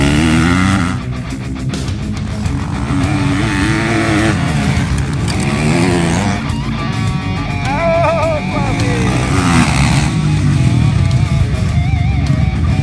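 A car accelerates on a racing course at a driving school, a loud continuous engine roar rising and shifting in pitch through the gears, close and sustained throughout, with some voices mixed in.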